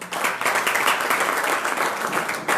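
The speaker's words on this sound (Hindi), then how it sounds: "शिला प्रभुपाद के लिए जोरदार ताली बजाए।" Listeners at a Srimad Bhagwat Katha religious discourse applaud Prabhupada, a loud, sustained wash of crowd clapping that stays even throughout.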